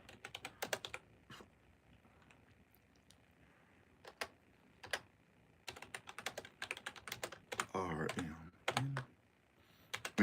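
Close keyboard typing of a discount code, scattered clicks and short bursts with pauses, and a brief stretch of talking near the end.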